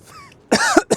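A close, harsh cough in two quick bursts, the second shorter, after a brief vocal sound.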